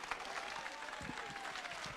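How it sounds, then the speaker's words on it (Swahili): An audience applauds at a Nairobi County security forum, a steady, fairly faint patter of many hands clapping that continues without a break. "Makofi."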